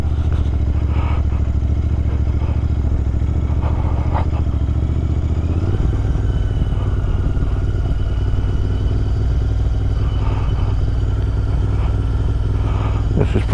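A Royal Enfield Interceptor 650 Mark 2 motorcycle engine droning steadily and loudly while engine braking on a ride, with a low rumble shifting pitch partway through and wind buffeting throughout.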